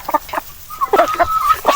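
Heritage chickens on a farm clucking and cackling close by in short, irregular calls, with a couple of longer drawn-out notes over a quiet background.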